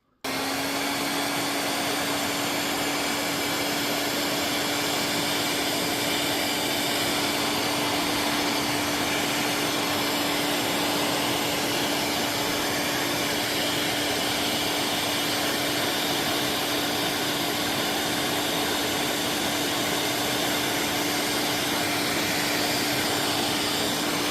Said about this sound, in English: I prefer using a heat gun to melt that solder and seal it up.